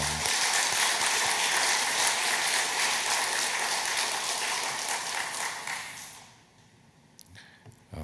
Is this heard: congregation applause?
yes